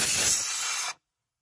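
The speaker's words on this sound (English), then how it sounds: "just immediately spray it with oil after I get it going cherry red" A loud hissing spray of oil sputters for about a second against a cherry-red hot bolt, then cuts off abruptly into silence.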